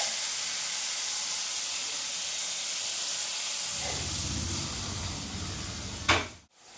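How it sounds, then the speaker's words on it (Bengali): Fish and vegetables hit hot mustard oil in a wok, a steady hissing sizzle that swells briefly near the end and then drops off abruptly. "তেল ভালো করে গরম হয়ে গেছে। এবার এই মাছ দিয়ে সবজিগুলো মাখিয়ে ভালো করে দিয়ে দেওয়া হবে।"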